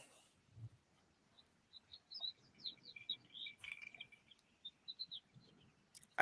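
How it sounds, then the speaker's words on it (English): Light, high bird chirps and tweets repeat in short bursts, somewhat distant outdoors, against a quiet background. "I can hear birds because Michael's outside"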